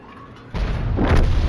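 A tank's main gun fires in World of Tanks, one heavy booming shot with a low rumble that carries on for the rest of the moment, loud and close.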